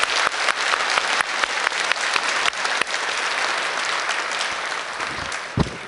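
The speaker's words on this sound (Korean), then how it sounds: "축복하는 박수 한번 해주세요." A church congregation claps in warm, sustained applause, a dense, even patter of many hands that carries on steadily for several seconds, with no speech over it.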